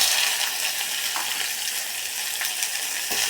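Cumin and garlic fry in hot oil in a pan, a steady close sizzle with brief stirring scrapes, loud and continuous throughout.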